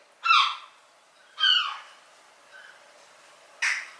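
A flock of seagulls passes close overhead, giving three loud, harsh calls spaced about a second apart, with a fainter call between them and no talk.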